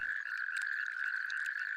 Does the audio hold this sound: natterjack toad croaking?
yes